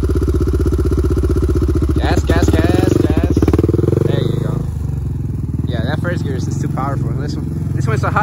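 Motorcycle with a hot cam and big-bore kit on a 400, running in first gear, with a loud steady engine drone throughout and people talking over it.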